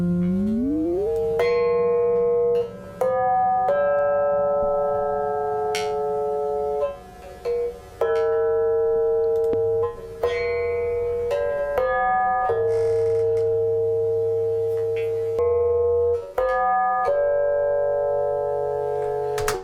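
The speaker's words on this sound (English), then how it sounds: "it sounds more like a bell than it sounds like a guitar" An electric guitar run through a frequency shifter rings out in sustained, bell-like tones. A string of struck notes overlaps and decays, steady and loud with no voices.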